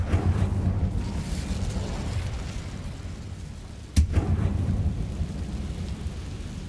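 Incendio fire spell cast in Hogwarts Legacy, a steady low rumbling roar of flame that runs throughout, with one sharp burst about two-thirds of the way in before the roar carries on.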